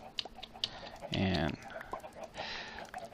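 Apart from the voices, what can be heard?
chickens clucking in modded Minecraft video game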